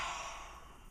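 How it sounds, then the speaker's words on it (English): A person yawns from tiredness, one breathy, drawn-out exhale that starts loud and fades slowly over about a second, heard close and alone. "That was a yawn."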